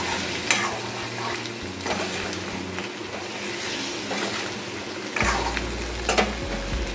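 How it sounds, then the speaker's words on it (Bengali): Spice masala for a rui fish curry with potato and pointed gourd sautés in a pan, with a steady sizzle and occasional stirring scrapes, and a low rumbling hum joining near the end. "মশলাটা কষানো হয়ে গেছে"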